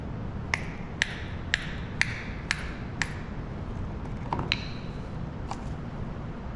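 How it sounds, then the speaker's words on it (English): A hammer taps on a piece of cloth to knock a pellet out of the bottom part of a combustion apparatus, giving about seven sharp metallic taps in an even rhythm followed by a few lighter clinks. "and you have to use a hammer."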